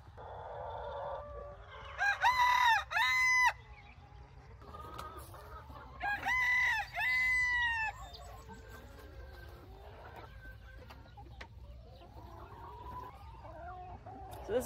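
Roosters crow loudly twice in a homestead yard, each a long wavering call, while hens cluck and murmur softly around them between the crows.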